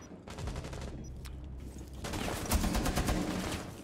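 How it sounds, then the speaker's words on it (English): Rapid bursts of automatic gunfire in Rainbow Six Siege, players spamming bullets in a 4v4 round, with dense overlapping shots that swell louder in the second half. "So they're just kind of spamming bullets,"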